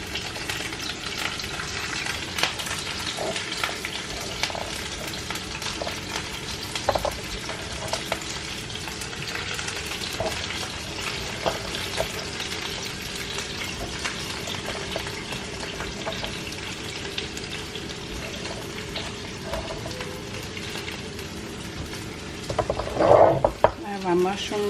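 Cube steak fries in a hot pot for a southern cube steak and gravy dish, a steady close sizzle with scattered scraping and stirring clicks, growing busier near the end.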